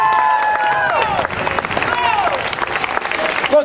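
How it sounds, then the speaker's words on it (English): A crowd at an outdoor human rights rally in Hartford, Connecticut breaks into loud sustained clapping and scattered cheers, a dense wash of applause lasting several seconds. "Clap your hands if you agree."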